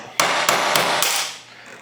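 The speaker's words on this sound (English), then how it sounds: "I always like to use a brass punch for that" A hammer strikes a brass punch on a pistol's firing pin stop during extractor tuning, giving five sharp, close metallic taps at a quick, uneven rhythm.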